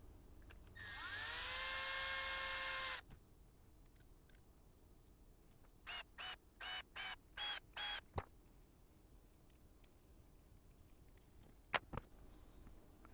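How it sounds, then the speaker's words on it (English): Cordless power driver with a high whine running for about two seconds, then several short bursts as brass screws are run into a Samix rear portal on a TRX4 Blazer RC truck, followed by faint clicks. "I'm just going to run them down with my power driver"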